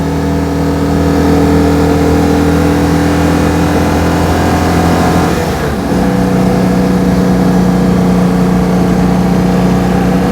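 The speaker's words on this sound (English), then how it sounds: "I wouldn't get you to use top gear at all on this hill with the previous engine" An upgraded engine in a Citroën 2CV pulls uphill in top gear, a loud, close, steady drone with a brief dip and shift midway before settling back into an even, strained hum.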